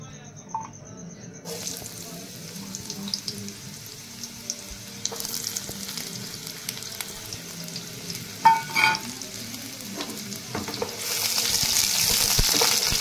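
Chopped onions fried in a generous amount of hot oil, giving a steady sizzle and crackle that grows louder and more hissing toward the end, with occasional stirring clatter and no talk.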